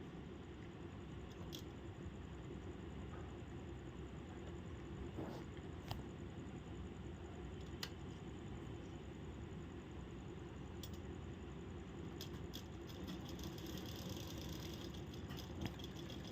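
A sewing machine stitches the fabric of an off-shoulder blouse with a continuous, quiet mechanical whir and faint rattling, interrupted by a few small clicks.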